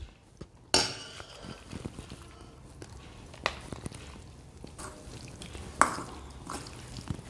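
Boneless chicken pieces being mixed in a bowl for chicken kabab, with soft wet squelching and a few sharp clinks of a spoon against the dish, close and quiet, no talking.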